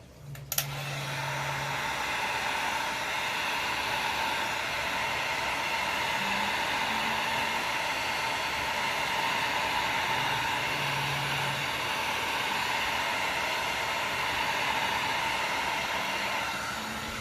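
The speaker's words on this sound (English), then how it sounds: "Get my heat gun and plug it in so it will get a little bit noisy." Electric heat gun blowing continuously while an alcohol ink tumbler is being made, a steady close whooshing fan roar with a brief click at the start and a faint tonal hum throughout.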